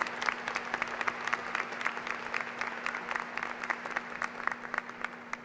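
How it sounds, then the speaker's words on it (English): A college commencement audience at Glendale Community College in 2019 breaks into sustained, dense applause, a continuous patter of many hands heard from a moderate distance. "Let's give them a round of applause and thank them for their many years of service."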